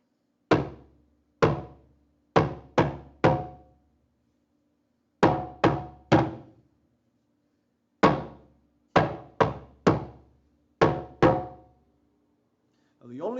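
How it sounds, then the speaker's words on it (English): A single drum plays a rhythm exercise in sharp, resonant hits. The strokes come in separate groups with pauses between them, mixing quick and slower beats with clean decay and silence around each group. "On the drum, that would sound like this."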